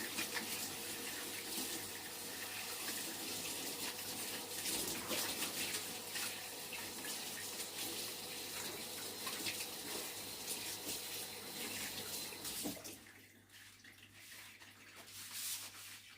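Tap water runs steadily from a kitchen faucet as hands are washed during cake-making, a continuous hissing splash that stops abruptly near the end, leaving a quieter room.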